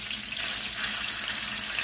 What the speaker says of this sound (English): So after cooking the salmon on one side for 3 minutes, I am gonna flip it over